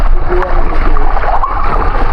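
Water spouting from a jet in a swimming pool, a steady close splashing and gurgling rush that runs continuously, with voices talking over it.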